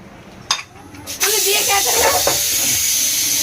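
A sharp hiss bursts up and settles into a loud, steady sizzle of spices hitting hot oil, with a couple of brief clicks before it.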